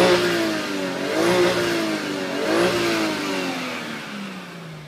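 A 2001 Toyota Mark II IR-V Grande TRD with a manual gearbox revs its engine twice in a row, each rise and fall clear and close, with the motor humming steadily in between.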